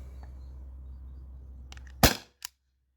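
A T4E HDP50 CO2 pistol, 13 joule version, fires a 2.7 gram ball: one sharp, loud close pop after a low hum and faint clicks, then a brief smaller crack just after.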